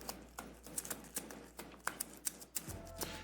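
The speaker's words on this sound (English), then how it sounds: "Some more of a shuffle." Cards being shuffled for a tabletop dungeon board game, a run of soft riffling taps and flicks spread across a few seconds, close and fairly quiet, with no talk over them.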